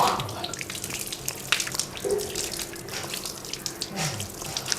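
Water poured and splashing while feet are washed during wudu ablution, an uneven run of close trickling and splattering with small drips and brief surges.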